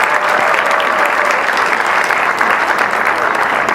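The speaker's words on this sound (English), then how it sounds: "that deserves a big round of applause" Audience applause after a school play of The Rotten Princess: a dense, steady wash of many hands clapping together, loud and sustained throughout with no voices breaking through.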